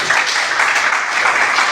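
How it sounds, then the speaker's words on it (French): Dense applause from a conference audience, a steady close wash of many hands clapping at once with no pause. "J'aimerais encore redonner l'applaudissement"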